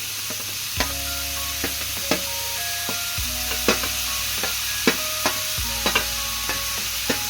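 Large taro pieces fried and stirred in a pan for a traditional taro dish, with a steady low sizzle under repeated sharp scrapes and clinks of a utensil against the pan.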